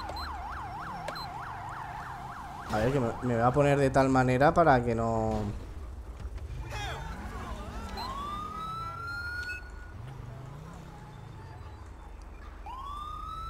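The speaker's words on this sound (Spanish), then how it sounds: "ahí llega la ambulancia" A video-game ambulance siren wails, rising and falling, then a rapid yelping siren blares loudly before fading; someone talks over it amid background rumble.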